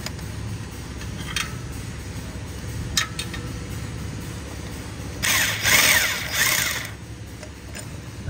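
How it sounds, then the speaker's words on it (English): A power tool spins out bolts from the oil filter housing on a Honda 2.4-liter engine, heard as one close, buzzing whir of about a second and a half over a low steady hum. "now I'm just gonna remove them with my power tool"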